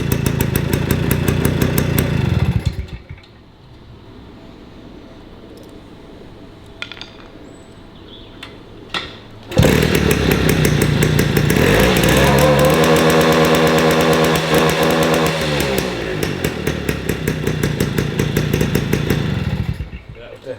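A 1953 MV Agusta 125 Pullman single-cylinder two-stroke motorcycle engine runs loudly, drops to a quiet lull, then roars back with revving that rises and falls, its rapid putter close and dominant.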